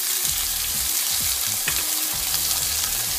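Onions frying in sesame oil in a hot pan for chow mein, giving a steady close sizzle with occasional stirring scrapes throughout.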